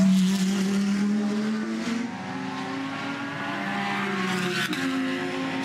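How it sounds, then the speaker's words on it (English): Porsche and Audi GT race cars at Bathurst's Mount Panorama, in a 2021 GT World Challenge Australia race, climb Mountain Straight with loud, sustained engine roar that rises through the gears, heard alone without talk. "The sweet, sweet sounds of the Porsche and the Audi making their way up Mountain Straight there."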